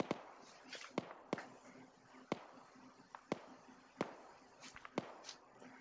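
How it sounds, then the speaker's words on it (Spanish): Sharp, faint cracks ring out at irregular intervals from far off, several isolated reports spread across a quiet, hissy background. "Sigo escuchando disparos,"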